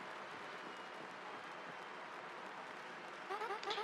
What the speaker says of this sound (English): The crowd's going wild for Gonzalez, our third champion.